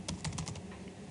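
Fingers type a quick run of keystrokes on a computer keyboard, several close rapid clicks clustered at the start and then fading out, with no talking.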